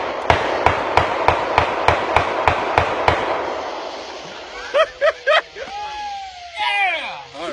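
Fourth of July fireworks fire in a steady run of about ten sharp, loud bangs roughly every third of a second, then stop, followed by excited shouting and voices.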